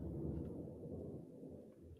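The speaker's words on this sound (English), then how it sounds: "Is that thunder? That is thunder," Thunder from a storm rolls as a deep, continuous low rumble for the whole moment, fairly steady and fading slightly near the end, with no voices over it.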